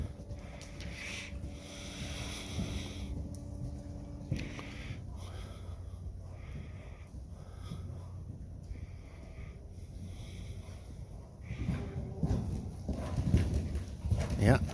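A horse trots through a grid of ground poles and cavaletti in a riding arena, on the left rein, its hooves clip-clopping in a steady rhythm, with occasional talk and some wind noise.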